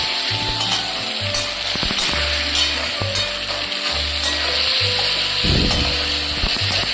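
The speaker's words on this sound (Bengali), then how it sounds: "এবার আমি এটা ভালো করে মিক্স করে কষিয়ে নেব।" Spice paste with sugar stirred and sautéed in hot oil in a pan, a steady loud sizzle with scraping spoon strokes in an irregular rhythm, close up and without talk.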